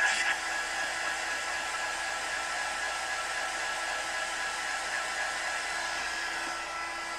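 A hair dryer blows steadily up close while teal and blue-green paint dries, a continuous even whoosh that runs alone for the whole stretch with no talk.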